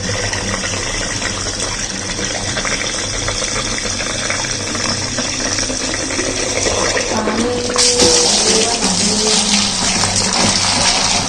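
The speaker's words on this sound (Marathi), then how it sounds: "चला तर हे बॉटल भरून ठेवते" Water runs steadily into a bottle, a continuous rushing pour with a slight shift in tone near the end, close and fairly loud.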